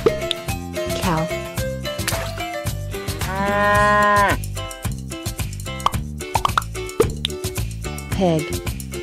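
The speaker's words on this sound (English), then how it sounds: "Cow." A cow moos loudly in a long drawn-out call over background music, with a few shorter lowing sounds around it and a child-oriented voice speaking briefly.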